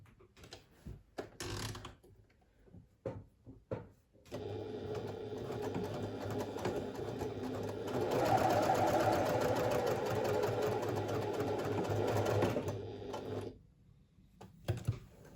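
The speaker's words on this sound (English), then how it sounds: "So we'll sew along one of the side seams" A sewing machine sews a pouch side seam with a one-centimetre seam allowance: a few short clicks and taps, then a sustained close whir lasting about nine seconds that grows louder midway, then stops, with no talk.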